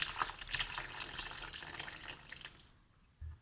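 Lemon-soured milk pours into a bowl of scone dough, a close, fairly soft liquid splashing that fades out near the end, followed by a brief low bump.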